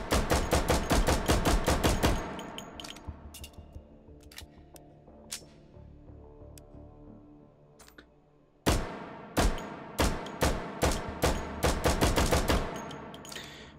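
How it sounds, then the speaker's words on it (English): Rapid bursts of gunfire ring out in the VR shooter Hot Dogs, Horseshoes & Hand Grenades, loud automatic strings of shots, then a pause with reload clicks before another fast burst. "Let's do a little bit of celebratory gunfire here."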